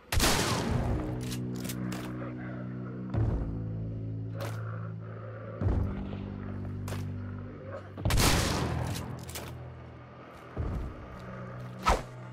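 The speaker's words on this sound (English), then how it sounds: "So running and gunning is legit for shotguns." Shotgun blasts ring out in Hunt: Showdown while the player runs, about five loud, sharp booms spaced a couple of seconds apart, each trailing off with a rolling echo, and faint footsteps and movement noise in between.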